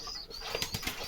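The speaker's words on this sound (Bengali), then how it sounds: "এটা হলো কালদম জাতের কবুতর।" A Kaldom breed pigeon at a home loft gives a quick run of soft wing flaps and fluttering, close by and short.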